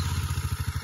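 Motorcycle pulling away slowly in neutral-to-first as a learner eases out the clutch, a low pulsing engine thump repeating rapidly and steadily, close and fairly loud, with no talk over it.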